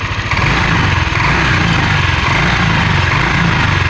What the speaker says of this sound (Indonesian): udah nggak mati lagi mesinnya